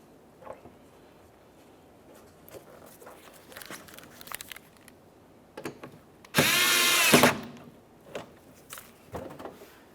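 Power drill driving the headlight mounting screws on a Toyota Sienna, with scattered clicks and handling noises before a single loud whirring burst of about a second, close by.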